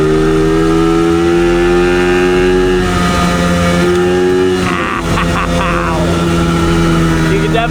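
Jake's worn-out, failing dirt bike engine held at full throttle, a loud, steady, close droning whine that shifts and roughens partway through, with no talk over it.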